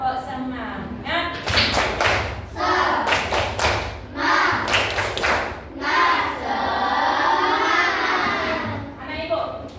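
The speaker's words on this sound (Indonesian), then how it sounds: "kita tepuk semangat dulu, tepuk semangat" A class of sixth-grade children doing rhythmic spirit clapping, loud bursts of claps in quick patterned groups mixed with shouts and chanting voices, close and lively, with a teacher's voice between rounds.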